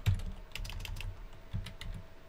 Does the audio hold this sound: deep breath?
no